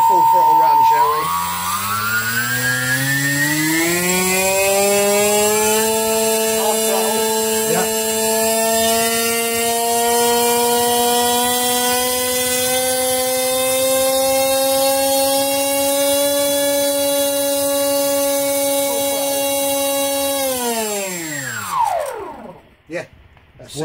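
An RC Blackburn Buccaneer park jet's electric ducted fan spools up to full throttle with a rising whine, holds a loud steady high-pitched scream for about twenty seconds, then winds down quickly.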